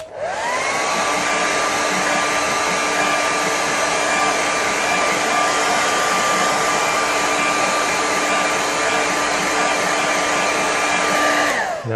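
A hair dryer blows hot air over a watercolour painting of a valley, a steady close whining roar held without a break for the whole stretch before cutting off at the very end.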